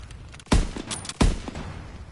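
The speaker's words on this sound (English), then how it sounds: "You incoming enemy artillery." Incoming enemy artillery in a World War II video game lands as two heavy, booming impacts less than a second apart, each followed by a short rumbling tail.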